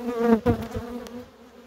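Bees flying around the entrance of a new nuc hive make a close, buzzing drone with a wavering pitch. The drone rises and swells briefly in the first half, then fades to a softer hum.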